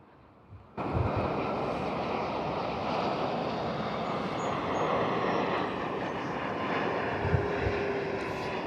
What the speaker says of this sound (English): I was just talking about, that's the Dreamliner,